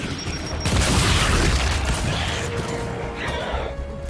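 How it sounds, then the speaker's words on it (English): Frag grenade detonating in Gears 5, a loud close boom with a rumbling, debris-filled tail that lasts several seconds before fading into game sounds. "Frag out!"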